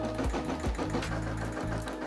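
A Brother SE600 embroidery machine stitches out a red design, its needle hammering in a fast, steady mechanical rhythm with a constant motor hum, loud and close, with no voices.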